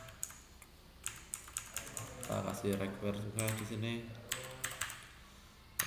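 Typing on a computer keyboard while entering password form fields for a web app, producing a steady patter of light clicks under a person talking throughout.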